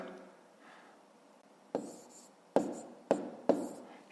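A pen writes numbers on paper while working long division, giving faint scratching followed by four distinct taps or strokes spaced about half a second apart, close and quiet.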